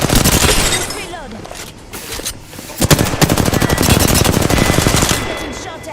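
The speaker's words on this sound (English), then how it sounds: "Getting shot at." Rapid bursts of automatic gunfire in a shooter video game rattle loudly and almost continuously, with explosive cracks and a voice mixed in under the shooting.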